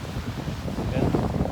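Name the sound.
wind at the sea in the Maldives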